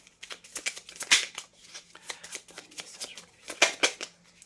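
Tarot cards drawn from a deck and laid out one after another, with crisp close slides, snaps and soft shuffling flicks in an irregular rhythm.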